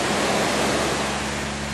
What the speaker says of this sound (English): the water's just rolling in